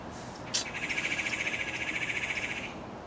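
Outdoor bird calls: one sharp chirp followed by a sustained, rapidly pulsing trill that holds steady for about two seconds before stopping, fairly close and without any talking.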